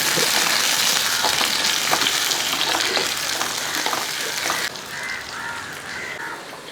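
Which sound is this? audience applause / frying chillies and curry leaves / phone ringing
frying chillies and curry leaves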